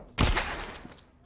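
A sharp, loud gunshot burst in The Walking Dead Saints & Sinners video game, one strong initial blast followed by a decaying tail and a faint, smaller report shortly after.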